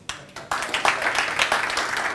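Audience applause at a technical talk on deploying a 4G mobile system builds after a couple of sharp initial claps into steady, moderately loud clapping from a roomful of people.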